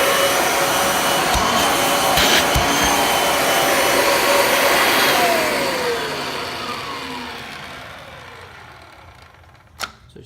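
A 2006 Kirby Ultimate G Diamond Edition upright vacuum cleaner runs with a loud, steady motor roar and airy whine, which slowly fades and winds down toward the end, followed by a brief knock.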